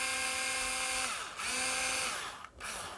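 Whining cordless power drill driving screws while a BMW GS1250 navigation cradle is fitted, with a steady high motor pitch that briefly slows and dips as the screw seats, then spins up again, loud and close.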